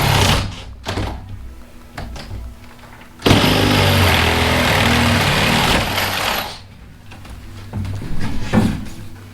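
A battery drill bores into a piece of wood with a loud, steady whine lasting a few seconds. Scattered knocks and handling noises come before and after it.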